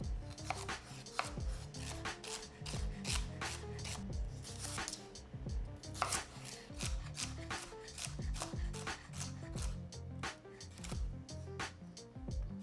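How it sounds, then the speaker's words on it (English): A knife chops celery for stuffing on a cutting board, a steady stream of quick, crisp taps close by, soft but continuous, with no talk over it. "now I'm just gonna cut up all my vegetables that I'm gonna use for my stuffing here"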